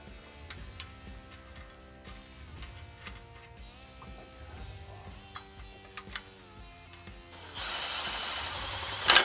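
A ratchet tightening bumper bracket bolts on a Nissan Xterra during a front bumper install, rapid clicking pawl strokes in repeated bursts, close up, followed by a brief hiss of noise near the end.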